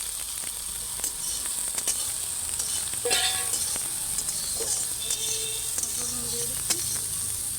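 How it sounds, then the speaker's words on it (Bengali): Soybean chunks fry in a pan with a steady, close hiss of oil, broken by occasional sharp pops and the clink of a stirring utensil. "সোয়াবিনটা ভেজে নিচ্ছি"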